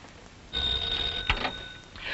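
An old-fashioned telephone bell rings in a radio drama, a sustained bright metallic ring starting partway in, fairly clear and alone without talk.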